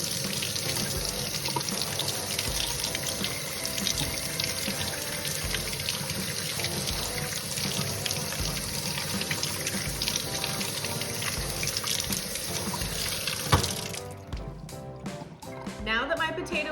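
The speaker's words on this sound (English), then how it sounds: "wash it under the running water of the sink" Tap water runs steadily into a kitchen sink as a dirty potato is rinsed under the stream, a loud continuous rush that cuts off near the end, followed by a few light clatters.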